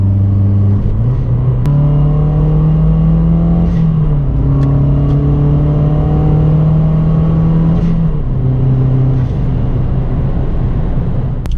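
A tuned Mazdaspeed 3 pulls hard under full throttle, its engine droning loud and close as the pitch climbs through each gear, with brief dips at the shifts and a continuous roar throughout.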